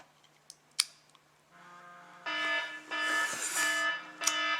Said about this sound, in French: ça c'est juste l'alarme